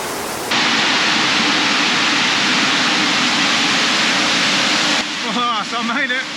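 A waterfall near Cairns, Australia roars close by as a steady, dense rush of falling water, loud and unbroken for most of the stretch, before a voice starts talking over it near the end.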